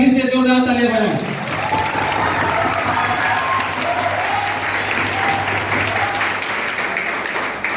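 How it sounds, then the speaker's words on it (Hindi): A school audience breaks into loud applause after a song, a sustained wash of clapping that follows a speaking voice at the start, with a faint tonal hum running beneath. "हम चाहेंगे कि आप लोग एक बार फिर से जोरदार ताली बजाएं।"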